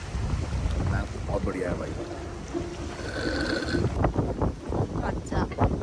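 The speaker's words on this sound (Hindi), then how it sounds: "यहाँ पे क्या हवा चल रही है बाहर" Wind blowing outdoors on an island in Thailand, steady rumbling gusts buffeting the microphone throughout, with someone speaking briefly over it.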